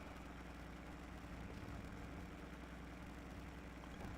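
A tractor in Farming Simulator 22 drives along with a steady, continuous low engine drone, the mechanical clunking blended into the even rumble throughout.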